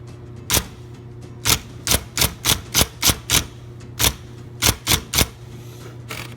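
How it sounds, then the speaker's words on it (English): Typing on a 1973 IBM Correcting Selectric II electric typewriter set to 12 characters per inch: sharp, close keystrokes in uneven bursts, about a dozen strikes, over a steady motor hum. "So if we start, and I'll type, it's on 12 characters per inch right now."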